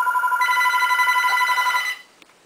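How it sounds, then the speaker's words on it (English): A landline telephone rings indoors, loud and close, with a steady electronic warble for about two seconds before stopping abruptly, leaving quiet room tone and a faint click. "One of these days I'm going to learn to take the phone off the hook when I'm trying to film"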